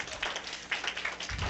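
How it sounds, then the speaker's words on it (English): Faint scattered applause from a small group at a medical clerkship event, brief and uneven clapping heard from a distance. "So please join me in an applause for Guyan."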